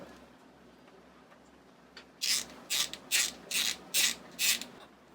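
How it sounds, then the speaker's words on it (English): A tool works screws into a Jabsco raw water pump aboard a sailboat. Six close, rasping ratchet-like bursts come at an even pace over a low, pulsing background hum. "you're tightening it all up now?"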